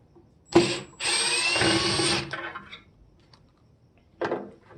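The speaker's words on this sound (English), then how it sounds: "the really long drill bits are easier to get into there." A power drill fitted with a long drill bit backs screws out of a Sony sound system, with two close whirring bursts of about a second each and then a shorter final burst, quiet in between.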